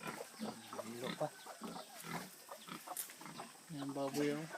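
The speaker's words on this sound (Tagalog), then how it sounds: "Yan baboy yung litsunin na yan." Pigs at a rural farm in Bukidnon grunt and squeal in repeated bursts, close and fairly quiet, with a few strained higher calls near the end.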